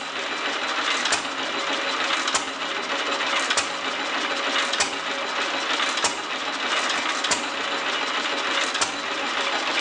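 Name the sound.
1929 Fairbanks Morse Z engine running, intake sound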